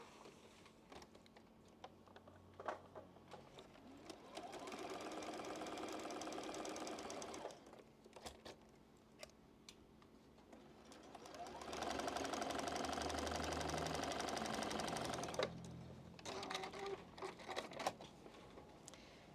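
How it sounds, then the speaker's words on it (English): A sewing machine stitches quilt blocks into a four-patch block in two sustained whirring runs, each a few seconds long, with quieter handling clicks and fabric rustling between them. "So just sew those together."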